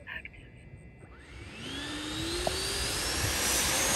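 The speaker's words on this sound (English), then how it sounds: "So let's get this J10 in the air and put it through the paces." A Freewing J10 90mm RC jet spools up and takes off down a runway, a rising whine of electric ducted fan climbing in pitch and growing louder over a few seconds after a brief quieter start.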